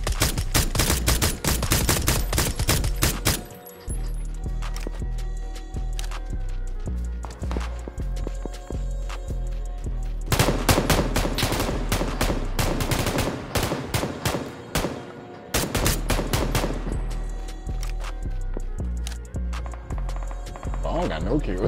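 Rapid bursts of gunfire in the video game PUBG, loud dense volleys with short pauses between them and game sounds mixed in.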